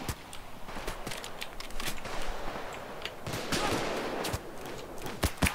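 Sniper gunfire in the Payday 2 bank-heist video game, with repeated sharp shots cracking out at irregular intervals over a dense, noisy firefight background and no talk.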